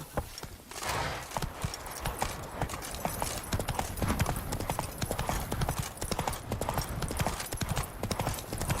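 Geralt's horse Roach gallops in The Witcher 3, hooves pounding in a fast, continuous rhythm close by, moderately loud, with faint game ambience and no talking.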